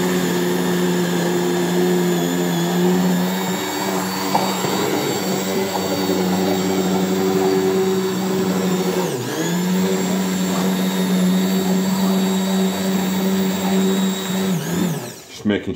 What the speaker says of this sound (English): I'm going to go in with the stick blender. I've got it set on a number 3